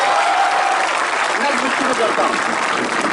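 Audience applause during a poetry recitation at JNU, a broad continuous clapping roar from a large crowd, with a voice briefly speaking over it.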